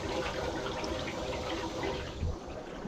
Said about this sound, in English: I'm running 2 tanks off that compressor, so you can see that one's bubbling pretty good